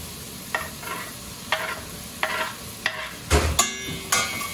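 Capsicum, spring onion and mushroom stir-frying with garlic and onion in a pan for veg Manchow soup, several scraping stirs and bursts of sizzling at an irregular rhythm, close and moderately loud with no talking.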